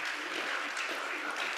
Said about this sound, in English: Please keep clapping as our investors are approaching